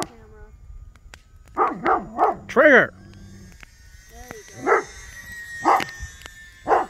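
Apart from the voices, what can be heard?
dog barking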